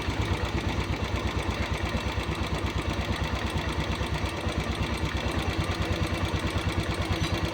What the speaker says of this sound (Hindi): तो देख सकते हो दोस्तों ओवर रेस हो रही है ना, हल्की हल्की रेस बढ़ रही है।